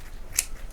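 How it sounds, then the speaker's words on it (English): A single quick snip of thinning scissors cutting a synthetic wig into a wolf cut, crisp and close, standing alone against a faint quiet background. "I may come back in here with thinning scissors and do this a little bit better."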